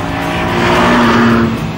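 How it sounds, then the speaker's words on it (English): A sports car's 2-litre VTEC engine revs hard, a loud, close, sustained whine climbing in pitch over about two seconds with a bright tonal edge and no voices. "The 2-litre VTEC engine in this is astonishing."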